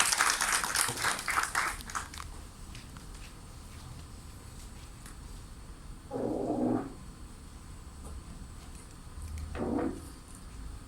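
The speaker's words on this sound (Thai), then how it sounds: "ขอเสียงปรบมือต้อนรับการแสดงชุดที่มีชื่อว่า สิงห์แห่งธรณีครับ" An audience applauds to welcome a performance at the opening ceremony of a clay sculpture art project. A burst of clapping fills the first two seconds, then fades into quieter room sound broken by a couple of short, muffled bumps.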